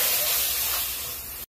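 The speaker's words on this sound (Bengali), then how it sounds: "দেখুন এখানে কিন্তু ভাতের ফ্যানটা ফুটতিছে।" Rice starch water boils in a wok on a stove, giving a dense, steady hiss and bubbling that fills the moment close by, then cuts off abruptly.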